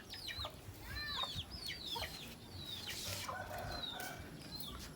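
Chickens clucking and calling outdoors, several birds close by with overlapping short bursts, some higher squawks, over a steady background hum.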